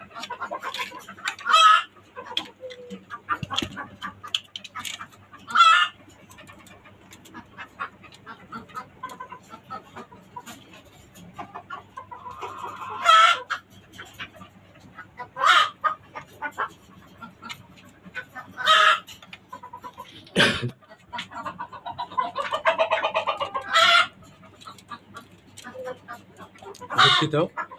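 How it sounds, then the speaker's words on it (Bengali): Roosters in rooftop cages crow and cluck repeatedly, several loud nearby calls rising and falling over about half a minute, with intermittent human talk in between. "এই মোরগগুলো চিল্লিতে আপনার পাগল বানায় ফেলতেছে।"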